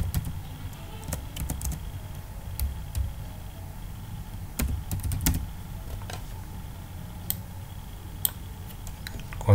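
Keyboard shortcuts tapped on a computer keyboard come through as sparse, sharp clicks spaced irregularly over a steady low background hum, close and fairly quiet, with no talking.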